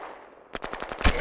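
Burst of automatic gunfire from the Shadow Empire strategy game: a quick run of about seven sharp, evenly spaced shots after a quiet lead-in, ending in a heavier, louder blast.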